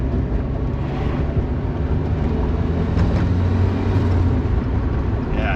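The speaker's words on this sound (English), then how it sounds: "So a little bit of turbo noises." A turbocharged 1997 Mazda Miata runs with a steady, loud engine drone and faint turbo whoosh, heard up close and continuous without talk.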